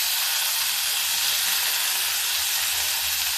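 Asafoetida (hing) hits hot oil in a pan on a gas stove and sizzles, a dense, steady hiss of frying that holds loud and even throughout.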